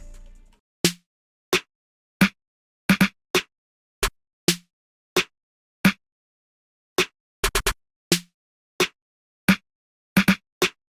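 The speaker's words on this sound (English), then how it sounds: "these accent snares that are more like heavier snares," Four heavier, acoustic-sounding accent snares in a guitar-based trap beat, struck singly and in quick doubles or triplets at uneven spacing with silence between, close and loud.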